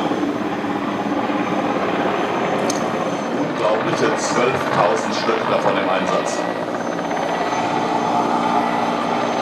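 A Mi-171 "Hippo" helicopter, an armed version, flies an air show display at ILA 2014, its rotor and turbine roar loud and sustained, with German commentary over a public address system throughout.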